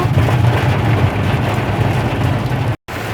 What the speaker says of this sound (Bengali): সুন্দর জোরে বৃষ্টি নেমে গেছে